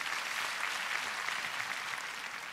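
Audience applause at a 2017 Korean literary award ceremony, a dense continuous patter of many hands clapping, moderately distant and steady throughout with no speech.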